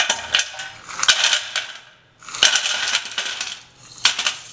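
Brittle jaggery and sesame sweets (revdi) snap and crunch in a few close bursts with brief pauses between, crisp cracking and crumbling sounds, no talking.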